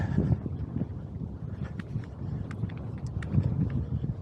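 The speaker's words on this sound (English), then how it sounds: "pity about the wind" Wind buffeting a microphone during a ride on a Breezer Radar X Pro bike, a steady low rumbling roar with gusty swells that runs through the whole stretch at moderate loudness.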